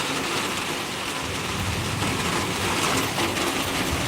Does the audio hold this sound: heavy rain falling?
yes